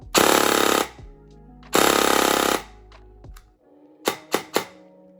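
An airsoft DSG M4 SpeedQB build fires two long full-auto bursts of very rapid, buzzing mechanical shots, close and loud. A few quick short bursts follow at the end.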